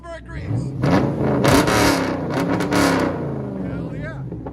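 Straight-piped 6.2L V8 on a 2011 Chevy Camaro SS, true dual exhaust with the X-pipe deleted, blipped hard in repeated loud revs up close, voices mixed in around the engine.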